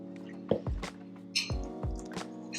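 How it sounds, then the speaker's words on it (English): Egg white is spooned into a thick pudding, giving a few soft wet drips and squishy plops at close range, with no voices. "so I'm just going to add a tiny bit more egg white."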